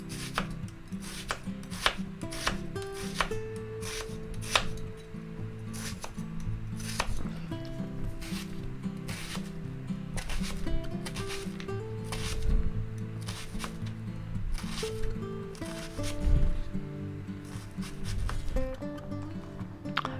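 A knife chops half a yellow onion on a cutting board, a steady run of quick, crisp taps carried on through the clip with small pauses, close and clear with no talking.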